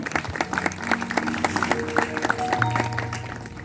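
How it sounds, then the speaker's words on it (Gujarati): An audience at a district-level innovation fair claps for the participating teachers, a steady wash of applause with a tonal hum or music running beneath it. "આયોજનમાં જેટલા ગુરુજી ભાગ લીધો આમની તાળી પાડી નાખો"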